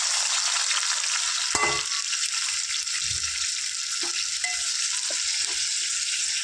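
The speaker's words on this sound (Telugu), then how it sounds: "దీని ఇదే ఆయిల్లో నేను ఒక పావు కిలో టమాటా వేసుకుంటాను" A quarter kilo of tomatoes fries in hot oil, giving a loud, continuous close sizzle with a sharp clatter early on and occasional small pops and stirring sounds.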